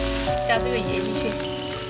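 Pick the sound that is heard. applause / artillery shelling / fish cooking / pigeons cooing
fish cooking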